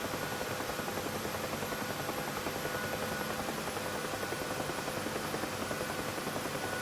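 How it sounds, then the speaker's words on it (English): Helicopter in DCS World, a continuous close rotor chop with rapid even beating over a broad engine whine, steady in level throughout. "Helicopters in this are very realistically modelled, shall we say, and very hard to touch down."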